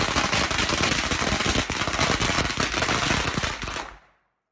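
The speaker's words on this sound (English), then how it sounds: "A key tradition is lighting firecrackers before dinner" Strings of firecrackers set off for Chinese New Year in Anji, Zhejiang rattle in a loud, dense, continuous crackling burst for about four seconds, then cut off abruptly into silence.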